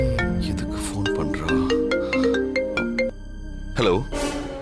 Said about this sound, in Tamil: தர்ஷினி எதுக்கு ஃபோன் பண்றா?